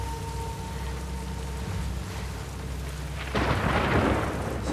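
Steady rainfall in The Last of Us Part II with a low rumble of thunder that swells into a louder, heavier crash near the end.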